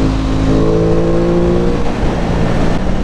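An Aprilia Tuono 660 Factory motorcycle engine loud and close, a continuous droning rev with a brief dip as the rider shifts gears with a blipper rev-match, then pulls again.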